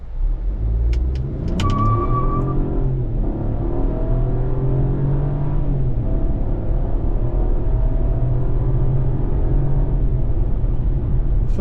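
A 2024 Chevrolet Trax RS pulls away from a stop, its engine rumbling and building in a steady, loud drone heard from inside the car, with a short chime near the start.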